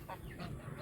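Geese honk and cluck in short, faint bursts at a farm pond, a few calls overlapping within a second.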